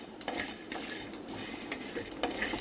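Sesame seeds roast in a hot pan and give off a dense, fast patter of small crackles and pops. The sound is close and fairly quiet, and nobody talks over it.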